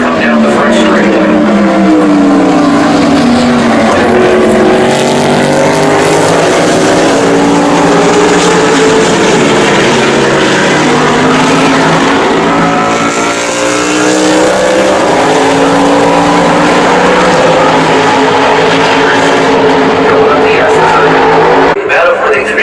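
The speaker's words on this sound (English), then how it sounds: "Here they come down the front straightaway." TransAm Series race cars roar down the front straightaway at Watkins Glen International, loud and continuous engine howls with shifting pitch as several cars pass close, with a commentator talking over them.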